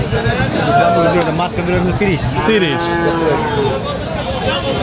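Bulls moo loudly several times, long drawn-out calls rising over a constant murmur of crowd chatter at a cattle market in Manikganj district.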